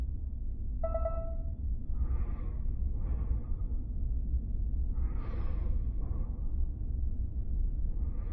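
Heavy breathing in an indie horror video game: slow, breathy gasps and exhales come in several separate swells over a steady low rumble, preceded by a brief tonal chime.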